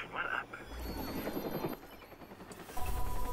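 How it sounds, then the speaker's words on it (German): A helicopter in the video game Watch Dogs gives off a steady low rotor rumble and whine under loud game effects, with a short burst of gunfire-like noise, while someone talks over it throughout. "Was ist jetzt mit diesen Helikoptern?"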